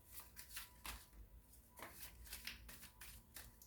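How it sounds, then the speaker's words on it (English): Tarot cards shuffled by hand in a quiet room, a run of soft riffling and tapping bursts, close up and fairly faint, with no talking. "Let's just shuffle for a minute"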